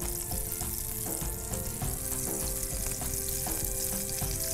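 Butter sizzling in a pan for cheese corn masala burji, a steady frying hiss with rhythmic stirring clinks about every half second, close and even, no speech.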